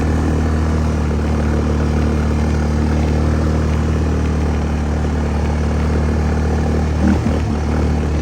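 Quad ATV fitted with an aftermarket exhaust on an evening trail ride, a steady loud engine drone and exhaust rumble running continuously at close range, with no talk.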